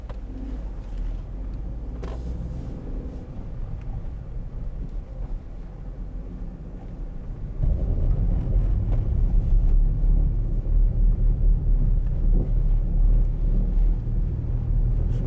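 Steady low engine and road rumble from a 2015 Hyundai i10 1.0 SE five-door on a test drive, growing louder and rougher partway through as it speeds up, with no voices.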